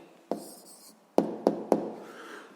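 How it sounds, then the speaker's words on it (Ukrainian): A pen scratches out an answer on paper, a short stroke followed by three quick taps or strokes, close and fairly quiet. "Пишемо відповідь."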